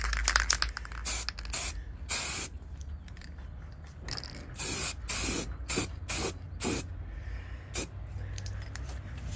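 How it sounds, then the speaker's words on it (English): A spray paint can hisses in repeated short bursts of varying length as a part from a Honda VFR400 NC30 motorcycle is painted, loud and close, with faint clicks between sprays. "So I'm gonna spray around this for now, because I feel like it could set a little bit longer."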